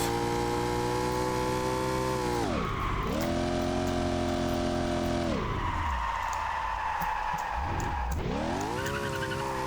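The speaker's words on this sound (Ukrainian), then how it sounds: "Це прокачаний двигун класу С." Tuned class C car engine in Street Legal Racing: Redline, loud and continuous, revving up and down through several gear changes with dips and climbs in pitch, alone without talk.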